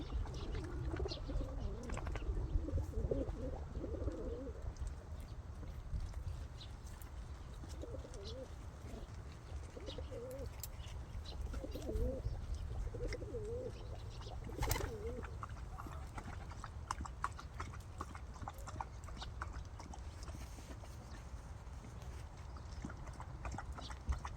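Pigeons or doves coo softly in several short bouts while being fed outdoors, faint against steady background noise with occasional light clatter.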